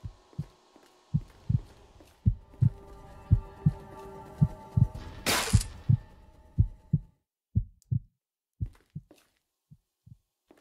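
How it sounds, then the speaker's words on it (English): A heartbeat in the VR horror game After Dark VR thumps in a steady, loud double-pulse rhythm, with a brief burst of noise midway and the beats slowing and thinning toward the end. "Oh, I hear the heartbeat already."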